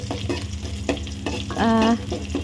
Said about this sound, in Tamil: நல்லா செவக்கிற வரைக்கும் கிளறி விட்டுக்கிட்டே இருக்கணும்.